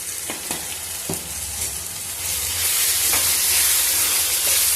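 A brinjal and chicken curry with fenugreek leaves, chilli powder and turmeric sizzles and fries in a pan over medium heat, a dense continuous hiss that swells louder midway, with a few soft stirring clinks.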